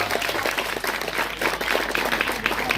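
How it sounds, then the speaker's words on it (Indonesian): An audience at a religious lecture in an Islamic boarding school applauds students with brisk, uneven clapping that stays fairly loud for about three seconds, with no clear speech over it. "Tepuk tangan untuk santri"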